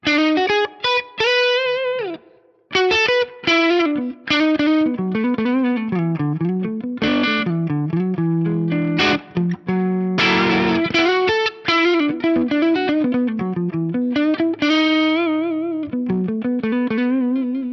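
Heavily fuzzed electric guitar plays bending, sliding riffs with thick, buzzy sustain and brief gaps between phrases, loud and up front with no voices.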